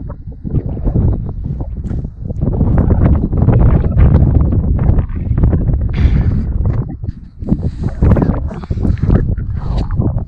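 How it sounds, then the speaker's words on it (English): Strong gusty wind buffets the microphone in continuous loud rumbling roars while riding a motorcycle outdoors in New Mexico, with no clear voices. "The wind, it's a windy day today"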